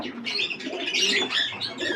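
Fancy pigeons, including a Nazra Kaldoma, cooing and chirping steadily during a morning feeding, a continuous close chorus of bird calls with a faint flutter of wings and no talk.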